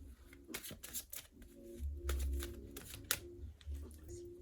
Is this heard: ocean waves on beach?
no